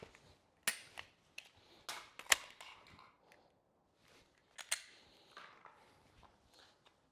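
Glock handgun being reloaded, the magazine dropped and a fresh one inserted: scattered sharp metallic clicks and clacks, a few louder snaps amid quieter handling rustle, close and fairly faint.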